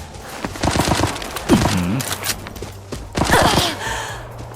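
Rapid bursts of gunfire in the mobile game Arena Breakout crackle through the game soundtrack, clustered volleys with brief gaps, loud and close, mixed with other game effects.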